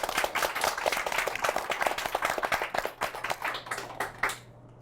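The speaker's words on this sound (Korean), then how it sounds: "박수 좀 부탁드릴게요" A small forum audience claps for several seconds, a dense patter of many hands that thins toward the end and stops, fairly close with no talking over it.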